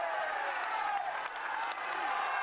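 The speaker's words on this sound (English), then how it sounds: "a massive crowd here as they climb up the Sorivoli" A massive roadside crowd cheers and applauds riders grinding up a steep climb of the 2004 Giro d'Italia, a continuous, fairly distant swell of voices with a commentator talking over it.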